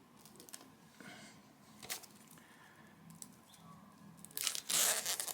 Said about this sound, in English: Let's start by taking the cellophane off to take a better look at this.